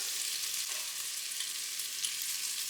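Sausage, bacon and onions sizzle in a pan for bean soup, a steady close hiss of frying fat with no other sounds.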